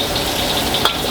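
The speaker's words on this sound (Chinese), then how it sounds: "先热锅热油，我们先下蒜碎爆香。" Minced garlic sizzling in hot oil in a wok, a steady close hiss and crackle of frying with one brief stir or clink near the end, no voice present.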